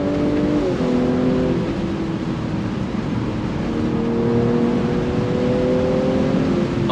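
A 2022 Audi S5 convertible accelerates hard on throttle with manual paddle shifts, its engine note climbing loud and steady in close interior perspective, with rising harmonics stepping down at each quick upshift.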